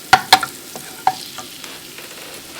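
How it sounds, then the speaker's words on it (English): Miso sauce being stirred in a pan over a hot fire, with a few sharp scraping and clinking utensil hits against the pan over a faint sizzle, close and without talking. "I've got my miso paste in here, trying to blend everything together. Keep it moving though, because this is a pretty hot fire."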